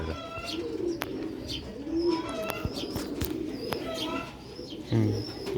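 Ferozpuri pigeons coo with repeated low throaty calls, close by. Light chirps and faint background noise sit between the calls.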